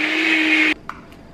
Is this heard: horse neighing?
no